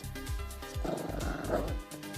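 A small shelter dog barks and growls in short repeated bursts, fairly close and moderately loud, with a rough growl running between the barks.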